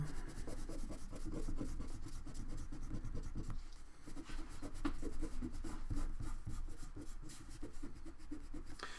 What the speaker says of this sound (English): Go ahead and erase now.